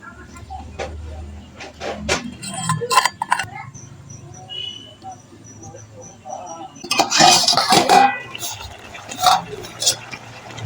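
Vegetables stirred in a pot with a lid, pumpkin and malabar spinach, heard as intermittent metallic clinks, lid scrapes and wet stirring close by, with a burst of louder clatter midway and a voice talking in between.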